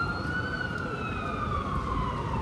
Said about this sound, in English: That ambulance is really struggling.